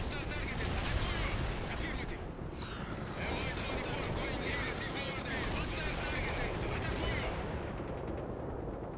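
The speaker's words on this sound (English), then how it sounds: "That's a heavy anti-air that just shot at me." Heavy anti-air fire in the World in Conflict: Soviet Assault video game, dense continuous booming and rattling gunfire layered with battle noise, loud and sustained throughout.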